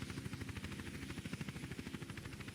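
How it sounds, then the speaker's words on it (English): Helicopter in the video game Madness: Project Nexus, its rotor pulsing in a fast, even chop that holds steady at moderate volume, with no talk. "The helicopter's primed and ready for you, sir."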